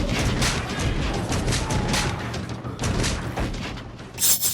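Gunshots fired at Miyamoto Musashi, a dense irregular volley of booming cracks and rattles close by, ending with a sharper louder burst, no speech.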